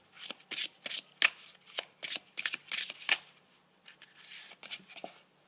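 Tarot cards being shuffled by hand, heard up close as a quick series of crisp riffling bursts with short pauses between, quiet and alone.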